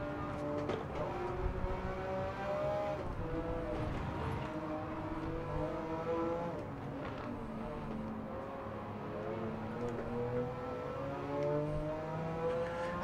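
A Porsche 911 race car in Gran Turismo 7 gives off a steady engine whine whose pitch rises and falls through gear changes, with other race cars droning alongside at a moderate, even level.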